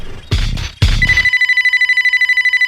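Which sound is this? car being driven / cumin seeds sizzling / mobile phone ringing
mobile phone ringing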